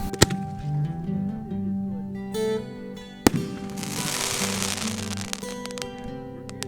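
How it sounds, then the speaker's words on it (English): Fireworks shells are test fired at night during setup for a display: sharp launch bangs and a loud crack, then a hissing crackle through the middle, over a steady background hum and a few clicks. "The boys set up a few shells for a test fire."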